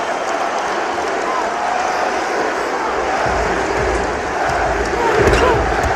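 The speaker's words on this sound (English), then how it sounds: "listen to this crowd now here with Cleveland" Home basketball arena crowd roaring for Cleveland during a Celtics game, a steady loud wash of cheering that swells toward the end, with a commentator talking over it.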